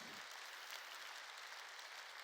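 A church congregation claps together in a brief, faint wash of applause, steady and diffuse, with no voices over it.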